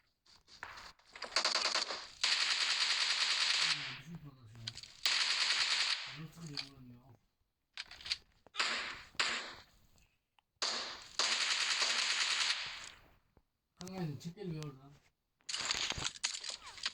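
Rapid automatic gunfire in the PUBG Mobile video game comes in repeated loud, dense bursts separated by short silences, while players talk over the shooting at several points.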